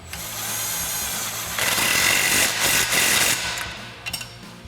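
An impact wrench with an 18mm socket and extension tightens the bottom suspension bolt on a Jeep Wrangler JK during a 2.5-inch lift install. A steady, close mechanical whir swells into a louder, harsher run of about two seconds, then tapers off.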